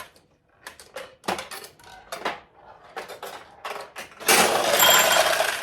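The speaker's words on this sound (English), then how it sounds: "If a ball goes down here, depending on which way this tips, it'll open this tulip or that tulip." A ball rattles and clicks down through the pins of a fully restored 1974 Nishijin Model B pachinko machine, a string of sharp metallic ticks and clatters, ending in a louder burst of jangling.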